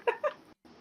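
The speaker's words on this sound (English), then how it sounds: "I just remembered Alyssa has Hitler cat." A cat meows twice in quick succession, close and fairly loud, followed by a brief silence and a softer trailing sound.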